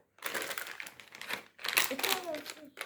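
A plastic bag is torn open in two bursts of crinkly, crackling rips separated by a short pause. The tearing is close and loud, and voices talk over it.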